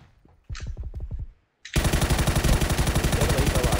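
Rapid automatic gunfire in the battle royale game PUBG, a few scattered shots first, then after a brief gap a loud, dense, continuous burst of rounds filling the rest of the stretch, close and with no talk.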